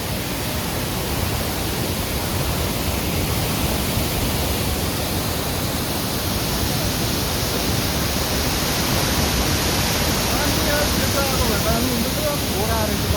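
Steady broadband roar of Rupse waterfall in Nepal, a dense continuous rush of falling water that stays loud and unbroken throughout, with faint voices mixed beneath it.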